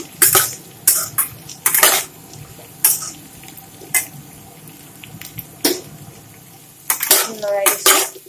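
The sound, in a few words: stirring brinjal with fried fish intestine in a pan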